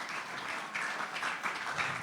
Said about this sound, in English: If you can all give her a round of applause